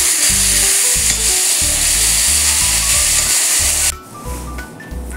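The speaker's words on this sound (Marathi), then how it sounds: "अगदी थोडंसं तेल घालायचं आणि त्यामध्ये आपल्याला ही मटकी थोडीशी 3 ते 4 मिनिटाची थोडीशी हलकीशी परतून घ्यायची आहे" Sprouted moth beans (matki) sautéed in a little oil in a pan, a loud continuous sizzle broken by repeated scraping stirs, then the frying drops away abruptly near the end leaving a faint tail.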